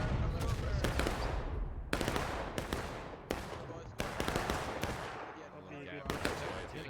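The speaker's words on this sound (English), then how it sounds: "Oh shit, that cannon." Gunfire and cannon blasts from a Dunker Church battle map in a multiplayer war video game, with repeated sharp, loud bursts every second or so, some in rapid clusters, over dense battlefield noise.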